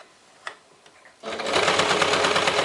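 Domestic sewing machine stitching a seam on a small fabric pouch, starting after a second of quiet handling clicks and then running at a steady, fast, close mechanical whir.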